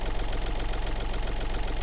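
A Yanmar AF33 Japanese mini tractor's small diesel engine idles close by with a steady, rapid knocking chug and a dense low rumble throughout.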